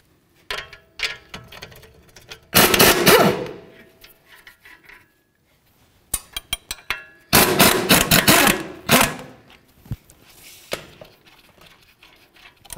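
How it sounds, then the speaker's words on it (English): Wrenches work strut bolts and nuts loose on a 2010-2015 Kia Sorento, heard up close as two loud bursts of rapid metallic ratcheting clicks, separated by a pause and followed by scattered ticks and knocks. "You're gonna use a 17 millimeter wrench on the bolt side and then a 19 millimeter to remove the nuts."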